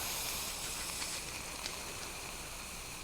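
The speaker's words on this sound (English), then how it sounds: "You hear some steam." Steady, faint broadband steam hiss in a submarine soundscape, a continuous airy rush with no clear breaks and no talk.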